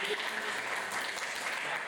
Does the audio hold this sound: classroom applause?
yes